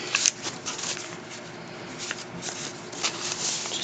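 Paper sheets for a handmade owl-themed recipe card being handled, a soft continuous rustling and crinkling with brief crisp flicks, close and fairly quiet with no voices.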